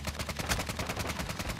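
Gunfire in the video game Call of Duty: Modern Warfare II, a rapid, loud burst of automatic shots in a steady rhythm lasting the whole short clip, with no talk over it.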